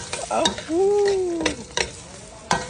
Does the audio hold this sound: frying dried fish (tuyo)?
yes